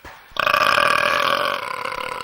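A voice performs a long, loud, drawn-out imitation of a meaty burp, close to the microphone and heard alone after a brief quiet start.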